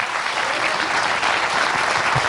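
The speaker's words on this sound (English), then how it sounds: "Can we have a round of applause, please?" A crowd applauds with dense, steady clapping that holds at an even level throughout.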